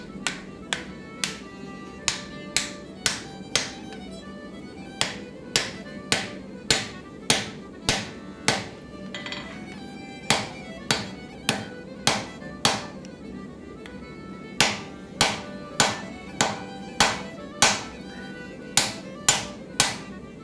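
Sharp hammer strikes land on a forged axe being folded, coming in uneven bursts of quick, bright taps with brief gaps, moderately close and fairly quiet, with no voices.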